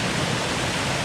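A brown, monsoon-swollen jungle stream runs after heavy rain in the hills. Its water rushes in a dense, steady, loud wash with no pauses and no voices.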